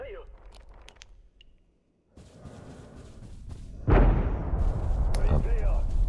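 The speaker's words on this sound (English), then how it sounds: "Although I do hear gunfire" In the video game Abiotic Factor, distant gunfire thuds and cracks amid a faction battle, with scattered shots, a quiet gap, then a heavy blast swelling into loud rumbling.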